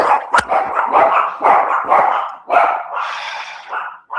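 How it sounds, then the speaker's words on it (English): Dogs bark repeatedly outdoors in a loud, irregular series of sharp barks close by, with no talking. "your dogs will bark indiscriminately at birds that fly by"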